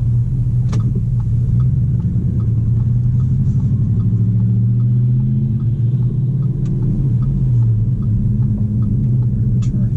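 A 2017 Audi Q5 quattro heard from inside while driving: a steady low engine and road rumble hums throughout, with faint clicks of a turn signal ticking over it and no talking.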